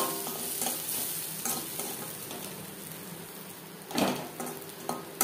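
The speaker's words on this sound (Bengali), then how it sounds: "3-4 মিনিট মিডিয়াম টু লো ফ্লেমে মশলা কষিয়ে নেব।" Spices for moong dal are stir-fried over a medium to low flame, with a steady sizzle and a spatula scraping the pan now and then, including one louder clatter near the end, heard close and without speech.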